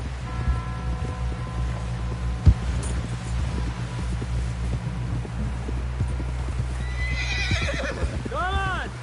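Horses in Red Dead Redemption 2 gallop with steady clip-clop hoofbeats, and a loud whinny rises near the end over a low rumbling game soundscape.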